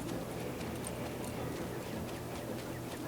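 Steady clip-clop of horse hooves at an even walking pace, moderately distant, over a constant outdoor rumble.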